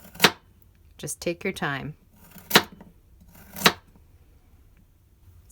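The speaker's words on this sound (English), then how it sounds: "You really have to press the knife blade into the carrot and make sure you're holding it very firm and still" Knife blade pressed firmly through carrot onto a cutting board in a home kitchen, giving three sharp, separate chops spaced about a second apart, close and clear, with a brief spoken phrase between them.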